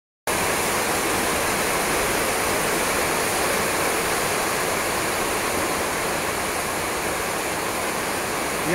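Steady water runs and trickles without a break, a dense wash of falling water from a leak, most likely drips pattering quickly in a constant stream.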